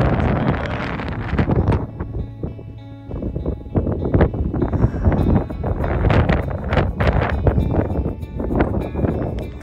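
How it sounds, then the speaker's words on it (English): Strong gusting wind buffets the microphone on a Lake District mountain near Pillar, roaring in loud uneven waves with rumbling low-end blasts and no voices. "It's really windy."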